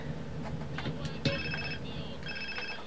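A phone ringing inside the video game GTA San Andreas, a repeating electronic ring tone in short bursts over game background noise and music, with someone talking over it.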